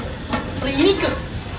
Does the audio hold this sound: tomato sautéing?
yes